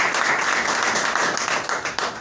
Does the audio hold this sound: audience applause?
yes